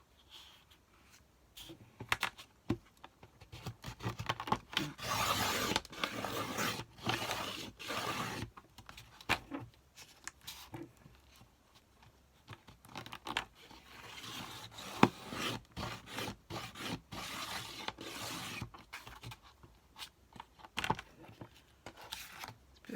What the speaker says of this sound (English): An awkward cutter this, it's only a cheap old thing.